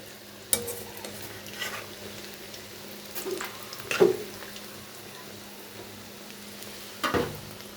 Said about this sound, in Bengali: ভেজে নেব এই জন্য আমি উল্টাতেছি দেখুন কত সুন্দর ফুলে গেছে চিরার কাটলেট